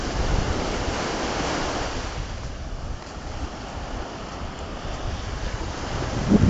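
Steady surf washes ashore at Pagudpud beach, a continuous broadband roar of breaking ocean waves with wind buffeting the microphone, loud and unbroken throughout.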